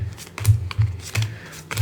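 Playing cards for the Royal Visit board game are dealt onto a table, giving several short, crisp slaps and snaps in an irregular rhythm, close and fairly clear with no talking.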